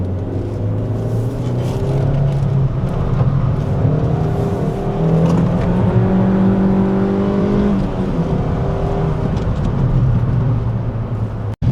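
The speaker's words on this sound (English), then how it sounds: "We're on a bit of a bumpy road, so you might hear some road noise." Road noise inside a Suzuki Swift Sport on a bumpy road: a steady cabin drone and tyre rumble with a humming engine tone, continuous and close, with one sharp knock near the end.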